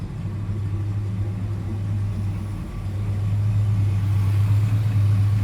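An old Pontiac engine idles steadily on the fuel left in its carburetor, a close, continuous low rumble that swells slightly louder toward the end, with no talking.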